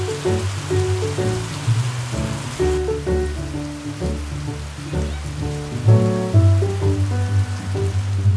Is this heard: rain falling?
yes